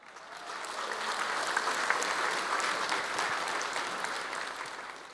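An audience applauds at a talk, with many hands clapping in a dense, sustained wash that swells and then tapers off slightly toward the end.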